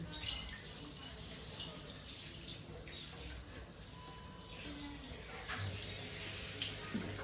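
Water runs steadily from a tap while a young boy is bathed, a continuous soft splashing stream close by.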